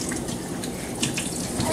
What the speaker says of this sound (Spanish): Voy a poner la agüita, estos dos.